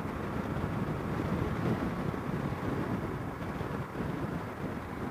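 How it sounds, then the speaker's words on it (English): Wind buffets the microphone on a moving motorcycle on a windy day, making a steady, dense roar of rushing air that continues without a break and carries no voices. "It's just kind of windy today"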